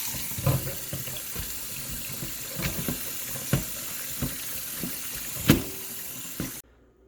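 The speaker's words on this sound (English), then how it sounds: "we're going to start out by rinsing the watermelon" Running tap water pours steadily over a watermelon being rinsed in a kitchen sink, with a few soft knocks and splashes as the fruit is handled, then the flow stops abruptly near the end.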